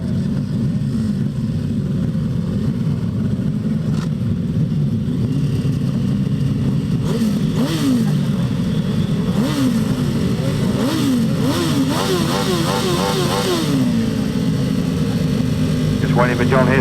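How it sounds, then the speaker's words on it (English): Grand Slam grasstrack sidecar outfits racing, engines roaring loud and continuous with rising and falling revs as machines pass, a commentator talking over the noise throughout. "Race 9 then, another heat of the Grand Slam sidecars."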